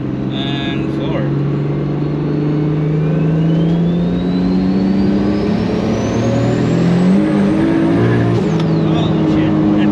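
Toyota Supra engine with Bosch Motorsport 2000cc injectors revving hard under acceleration through third gear, a loud steady rising drone close by, with people talking over it.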